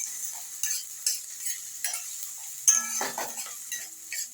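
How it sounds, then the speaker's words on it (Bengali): Ginger and garlic frying in oil in a pan while being stirred, soft sizzling with a series of light scraping strokes and a small metallic clink, close and fairly quiet. "রসুনটা দিয়ে আমি একটু ভালো করে এগুলো ভেজে নেব যাতে আদা এবং রসুনের কাঁচা গন্ধটা একদম চলে যায়"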